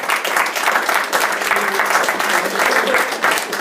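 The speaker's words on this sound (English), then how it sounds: "Would you keep that applause going, please?" At a football club evening event, an audience gives loud, sustained applause, a dense, continuous patter of many hands clapping from start to finish.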